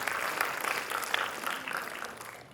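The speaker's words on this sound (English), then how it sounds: "Good round of applause for them, please." Steady applause from an audience at a school military history quiz, a dense patter of many hands clapping for a team that lasts the whole moment with no talk.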